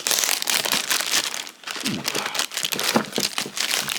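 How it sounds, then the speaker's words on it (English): Plastic packaging crinkles and rustles as a Steam Deck carrying case is unwrapped, with busy close handling noise filling most of the moment. "I'm going to try to open this up."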